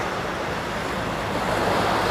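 Ocean waves rolling onto Chunjangdae beach in Seocheon, a broad continuous roar of surf mixed with wind rushing across the microphone.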